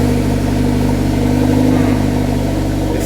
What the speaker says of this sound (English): So Kimberly, go ahead and turn on the car.